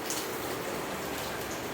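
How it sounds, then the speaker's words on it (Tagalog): Steady, moderate rain hisses continuously, an even wash of drops with no voices. "Grabe yung ulan, guys, oh"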